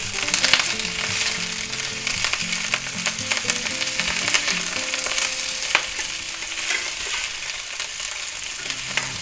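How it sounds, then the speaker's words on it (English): Carrots, celery and onions sizzle in hot oil in a pan, a steady loud frying hiss with occasional stirring scrapes and crackles throughout, no voices. "Okay, our pan seems hot enough. We're just going to go ahead and put our vegetables in."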